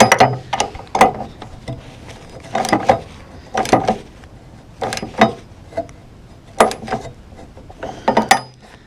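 A wrench tightens the mount bolts for a 50-inch light bar on a Toyota FJ Cruiser, giving repeated bursts of ratcheting clicks and metallic clanks in an irregular rhythm, close up with no talking.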